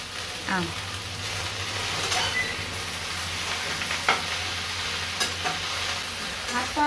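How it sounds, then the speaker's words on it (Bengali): Leaves being dry-roasted and stirred in a pan, a continuous dry crackling sizzle with intermittent scrapes and taps of the spoon throughout, close and moderately loud over a low background hum. "শুকনো খোলা একটুখানি নাড়াচাড়া করে নেবো। এটা ভেজে নিয়ে তারপরে মিক্সিতে দিতে হবে।"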